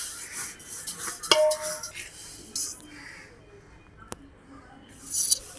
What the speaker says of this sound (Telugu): దీంట్లోకి ఒక 1/2 కిలో జీలకర్ర అయితే వేయించుకుంటున్నాము.